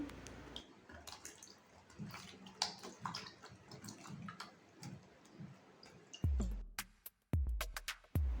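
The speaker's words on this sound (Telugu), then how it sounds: "వీటిలో వాటర్ వేసి అందులో కొంచెం సాల్ట్ వేసి సాల్ట్ వాటర్లో వాష్ చేసుకోవాలి." Water sloshes and splashes in a bowl as mushrooms are rinsed by hand in salt water, with a few sharper, louder splashes toward the end.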